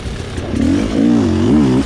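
A Rieju 300 motorcycle engine revs with rising and falling pitch while being ridden, loud and close, with the throttle blipping several times over a short stretch and no talking.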